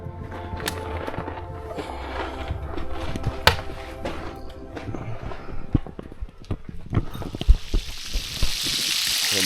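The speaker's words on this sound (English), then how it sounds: "Some bacon cooking." Bacon frying in a pan at a rainy campsite, a steady close crackling sizzle with scattered pops and clinks throughout, growing brighter toward the end.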